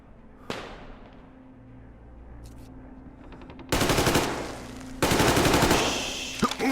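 Shootout in Metro Exodus, Sam's Story DLC: one sharp early crack, then a few lighter clicks, followed by two loud sustained bursts of rapid automatic fire close by.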